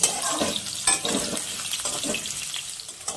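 Potatoes sizzle as they fry in hot oil with whole spice tempering, with a continuous crackle and occasional stirring scrapes close by, no voices.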